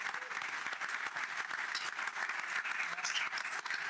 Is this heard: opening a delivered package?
no